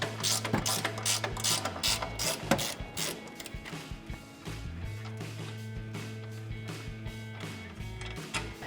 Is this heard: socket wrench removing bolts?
yes